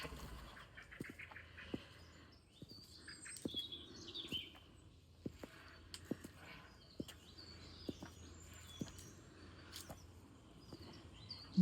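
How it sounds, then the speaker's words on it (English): Bird song and sharp chirps near a three-tiered English church, likely a robin, come in short bright phrases over faint background hiss, with scattered clicks and patter throughout. "there's that robin again"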